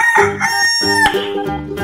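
A chicken from a children's animal video gives clucking, crowing-like calls, several close, loud harmonic squawks in quick succession with no talking.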